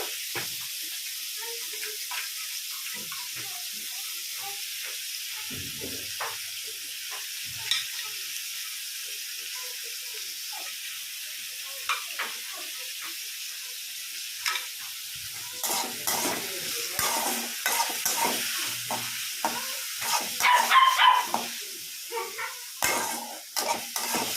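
Vegetables fry in a pan for a pasta breakfast, starting as a soft steady sizzle with scattered scrapes, then growing louder and more crackly with stirring and bursts of spatter in the second half.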